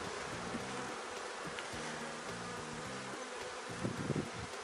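Honey bees buzz steadily around an open hive during an inspection, a dense close hum with individual insects droning past and faint rustling, no voices.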